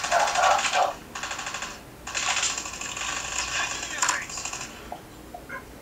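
Rapid bursts of automatic gunfire from a video game played on a Cubot X50 phone, several volleys separated by short pauses, crisp and close.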